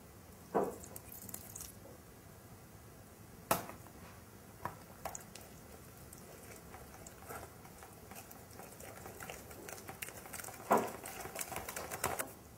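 Flour and milk whisked together into crêpe batter in a bowl, giving soft wet squishing and irregular tapping clicks of the whisk, with a few sharper knocks against the bowl, fairly quiet and close.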